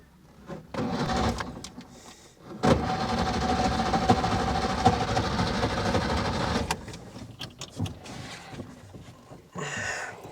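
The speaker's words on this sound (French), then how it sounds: "On tire le démarreur." The engine of a vintage Simca 5 car is cranked with a pull starter, giving a steady mechanical churning for several seconds that stops without catching, with quieter clicks and handling noises before and after.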